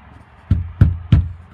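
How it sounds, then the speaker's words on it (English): Three firm knocks land on a door at an even pace. They are close and loud, with brief quiet between them. "Time to knock the door."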